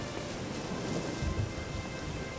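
Heavy rainfall hisses without pause in The Witcher 3, with a deep thunder rumble swelling midway before settling back into the constant downpour.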